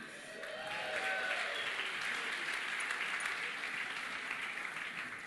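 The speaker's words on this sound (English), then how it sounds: "Give him a big hand clap." An audience at an indoor conference session applauds, a dense wash of many hands clapping that swells quickly and holds steady, moderately distant, with no speech over it.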